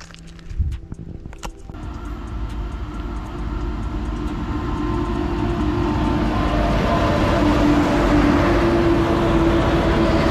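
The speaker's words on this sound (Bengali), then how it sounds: "এই দিক দিয়ে হাওড়া দিয়ে ট্রেনটা আসছে এই দিক দিয়ে যাবে" Train coming from the Howrah direction past a rail accident site with derailed coaches, its rumble building steadily from a few early clunks to a loud, continuous roar by the end.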